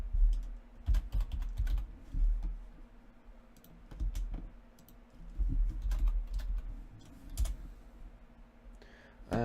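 Someone types on a computer keyboard, making close, uneven bursts of clicking keystrokes with short pauses between runs, and no one talks.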